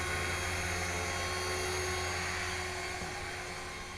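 An HK-450GT RC helicopter with a 2218 Turnigy Typhoon motor on a 12T pinion gear hovers nearby, its high, steady motor whine and rotor buzz held constant with no talk.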